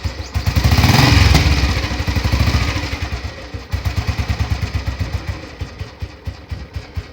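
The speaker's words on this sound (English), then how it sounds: "she idles around 550-600 revolution" An old Royal Enfield Bullet 350 single-cylinder engine idling at low revs, loud and close, first swelling in a rev then settling into a slow, even thumping beat of distinct pulses.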